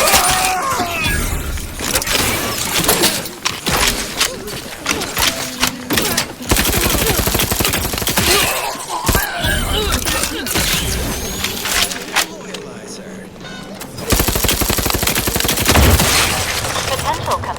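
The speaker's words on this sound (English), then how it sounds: "between Valerie's freaking beam and my freaking shots, we exploded that person" Rapid gunfire mixed with a crackling energy beam in The Outer Worlds 2, loud sustained bursts of shots and harsh zapping filling most of the stretch, with brief lulls between volleys.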